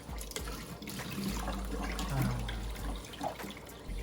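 Tap water runs steadily into a sink while chicken intestines are cleaned for crispy isaw, a continuous close splashing flow with faint handling noises.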